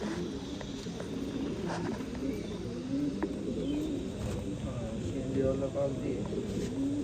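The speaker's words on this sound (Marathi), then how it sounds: "सगळ्यात पहिला कबूतर आहे आता वय झाले त्याचं" An aging pigeon, some nine to ten years old, coos in repeated low, soft rolling calls over a steady murmur of background noise, with faint chirps from other birds.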